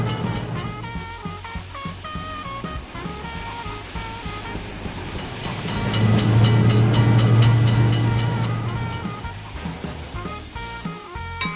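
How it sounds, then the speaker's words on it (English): A train rumbles past a level crossing nearby, swelling louder midway with rhythmic clatter and a rising roar before easing off. "Train is coming."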